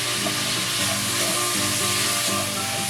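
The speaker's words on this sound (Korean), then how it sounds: "거의 다 익으면 호두를 넣고 잠깐 더 볶고 불을 끕니다" Walnuts stir-fried briefly in a pan, giving a dense, continuous sizzle at close range, steady and fairly loud with no pauses.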